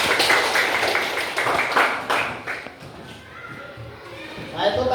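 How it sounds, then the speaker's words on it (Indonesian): Whole class of children clapping hands together in a sixth-grade classroom, a dense burst of claps for about two and a half seconds that then fades, followed by faint voices and scattered sounds. "tepuk tangan dulu semua."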